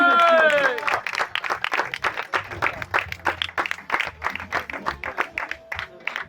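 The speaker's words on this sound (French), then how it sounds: "Je vous montre faire un tonnerre d'applaudissements pour lui." After a brief voice at the start, the crowd at a stand-up comedy show in a video game bar claps in a quick, even rhythm, with sharp, close hand claps repeating throughout.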